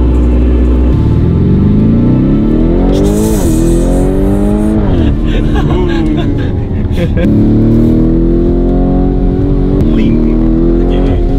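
A Lamborghini accelerates hard and revs loudly close by, its engine pitch climbing through several gear shifts; people talk over the roaring engine.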